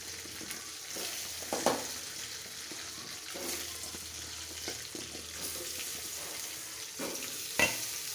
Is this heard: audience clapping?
no